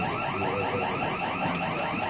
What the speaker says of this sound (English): except for whoever set off that alarm right there.